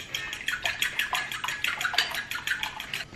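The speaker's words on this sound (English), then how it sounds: "So I'm gonna just start whisking my eggs." Eggs being whisked in a bowl for scrambled eggs, a quick steady run of light clicking strokes, close and fairly quiet, with no talk.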